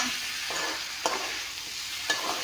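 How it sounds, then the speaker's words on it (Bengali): Local chicken meat frying in a pan with onion, spice powders and salt, a steady soft sizzle with two brief stirring scrapes, close by and without voices. "এতিয়া অলপমান ভাজি লওঁ মাংসখিনি"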